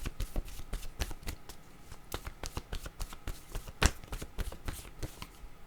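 A deck of playing cards shuffled close up, quick irregular riffles and snaps in a dense run of sharp bursts, one louder slap near the end.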